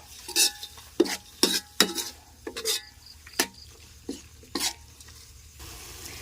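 Spicy pork being stir-fried in a pan for a Thai dish, a spatula scraping and clattering against the metal in about ten quick strokes over a soft sizzle, close and fairly loud, with no talking.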